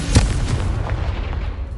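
A fiery Confringo spell blast from Hogwarts Legacy gameplay, a short booming burst near the start that settles into a dense rumbling roar lasting the rest of the moment.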